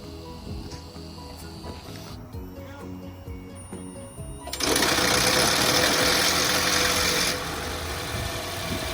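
A 2013 Toyota Camry Hybrid 2AR-FXE engine cranks and starts after a head gasket replacement, its timing chain tensioner rattling for a few seconds before the idle settles into a steady, loud running drone.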